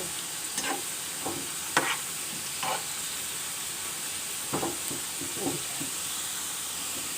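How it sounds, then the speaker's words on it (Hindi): French fries deep-frying in hot oil over raised heat, a steady close sizzling hiss punctuated by scattered sharp pops and light utensil clicks. "तकरीबन 4 से 5 मिनट लेंगे कि तलने में"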